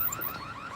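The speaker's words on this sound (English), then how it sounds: "Set off the alarm." A store security alarm goes off at a shop doorway, a steady electronic warbling tone repeating without pause, heard alone.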